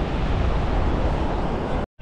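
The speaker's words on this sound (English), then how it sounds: "It's super windy." Strong wind buffets the microphone at a beach, a steady, loud roaring rush that holds without a break before cutting out abruptly near the end.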